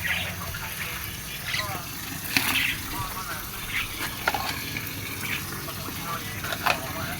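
Running water splashes steadily while a mynah bird cage is washed, a continuous hiss and gush with occasional clatters and knocks, close by; faint voices may be present underneath.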